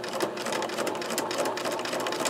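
A sewing machine runs steadily through canvas for a journal cover, giving a continuous fast, close mechanical chatter of the needle at an even speed, with no voices over it.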